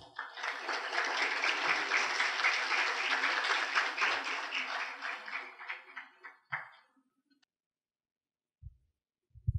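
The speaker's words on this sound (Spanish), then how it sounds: "recibámoslo con un fuerte aplauso" An audience at a talk on public versus private ports applauds to welcome a speaker. Dense, steady clapping runs for about six seconds, then thins and dies away into near silence with a few faint knocks.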